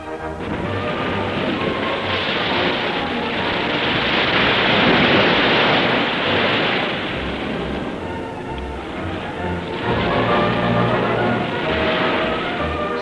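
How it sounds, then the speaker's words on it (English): Surf breaking on a clean sandy Pacific beach with white froth, heard as a loud, steady wash of rushing water that swells and eases with the waves and has no pauses. "The clean sand and the white froth of the surf are irresistible."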